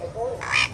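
A novelty frog toy at a rural fair market in Guerrero, Mexico gives a short croaking call, rising and buzzy, close and fairly loud against market background noise.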